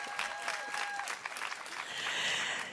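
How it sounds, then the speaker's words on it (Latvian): An audience applauds at a school graduation ceremony, steady dense clapping that swells slightly toward the end, with a faint tone under it at the start. "Grandiozas ovācijas!"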